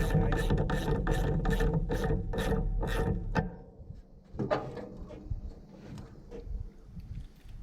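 A socket ratchet tightens a bolt on a 1966 Chevy Nova, clicking loudly in a fast, steady run of about ten clicks, followed by quieter metallic clinks and handling noises.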